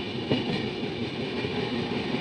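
A MEMU electric train in ICF rake colours runs through rain with a steady, close rumble and faint rail clatter, continuous and without talk.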